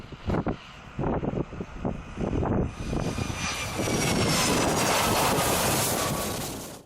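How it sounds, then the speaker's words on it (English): A Boeing 757 jet lands on a blue ice runway in Antarctica, its engines building into a loud, sustained roar with rising whine and broadband rush as it touches down, following a few brief thumps. "It was a relief to watch our 757 touch down on the blue ice runway"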